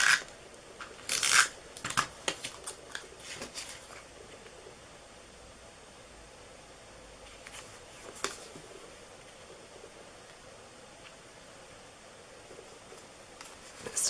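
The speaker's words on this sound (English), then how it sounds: "I'm just going to cut this down the center" Scissors cutting card paper down the center while making a Christmas card, a few quick crisp snips and paper rustles early on, then faint scattered handling sounds in a quiet room.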